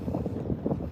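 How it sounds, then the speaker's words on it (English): Gusty wind buffets the microphone on an open harbour waterfront in historic Fells Point, Baltimore, a loud rumbling roar that swells and dips throughout with no voices. "now it's getting windy"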